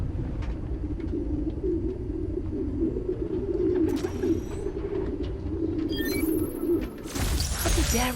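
Pigeons cooing in a park, a sound sample in Spider-Man Miles Morales: a steady low burble of many birds cooing together, with brief brighter chirps and clatter near the end.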